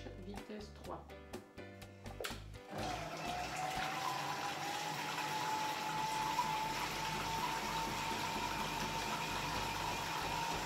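A Monsieur Cuisine Connect food processor spins up to speed 3, a steady loud whirring motor hum with a rising whine that holds for several seconds after brief clattering.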